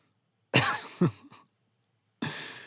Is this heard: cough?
yes